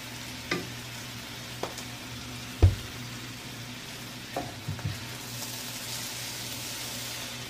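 Stir-fried potato with tempura mixed in a pan with seasoning oil: a continuous soft sizzle broken by several distinct scrapes and knocks of a utensil, one louder clunk near the start and a cluster of quicker taps later.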